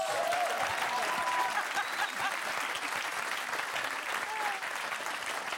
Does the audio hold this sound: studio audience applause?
yes